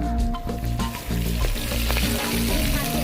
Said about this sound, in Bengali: দিনের বেলা যে মাছ ধরা হয়েছিল সে মাছ এখন ভাজা হচ্ছে